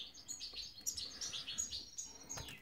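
Goldfinches chirping in an aviary, a busy stream of rapid high twitters and tweets, soft and continuous with no talking.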